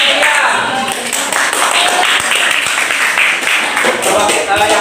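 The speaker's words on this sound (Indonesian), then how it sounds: "Tepuk tangan ya." Classroom applause from a group of Indonesian schoolchildren, a dense, steady patter of clapping that fills the whole stretch, mixed with scattered young voices chattering underneath.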